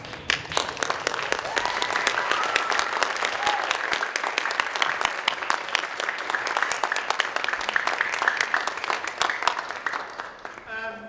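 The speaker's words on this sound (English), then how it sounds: "Let us all rise and applaud our 2025 lifers." A standing audience at a school lifer graduation ceremony claps steadily and loudly for around ten seconds, sustained dense applause that tapers off at the very end.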